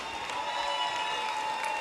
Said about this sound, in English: Come on, guys, a big round of applause for the lady